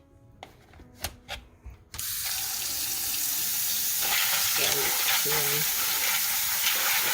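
After a few clicks and knocks, a steady hiss of running tap water starts and continues, with pinto beans rattling and sloshing under the stream.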